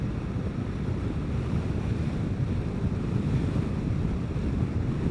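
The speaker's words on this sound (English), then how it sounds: "So pretty darn good wind blowing today." Steady, loud wind buffeting the microphone while riding a Vespa GTS scooter outdoors, a continuous low roar with no letup and no voices.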